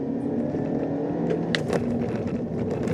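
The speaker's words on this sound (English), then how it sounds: "I'm gonna give it a little throttle mash here" 2019 Kia Forte with a CVT under full throttle, a steady droning engine note holding nearly constant pitch with faint road noise, no voices.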